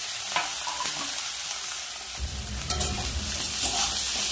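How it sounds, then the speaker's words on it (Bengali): Pumpkin, brinjal and green chili fry together in a pan, a dense close sizzle with occasional stirring scrapes that grows fuller and louder partway through as the vegetables hit the oil. "দিয়ে দেব কেটে রাখা কুমড়ো আর বেগুন আর কাঁচা লঙ্কা"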